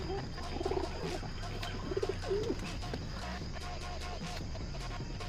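Pigeons coo softly in two short bouts, fairly close, over a low steady background hum.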